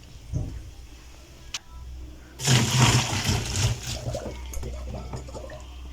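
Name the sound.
draining blanched courgettes and running cold tap water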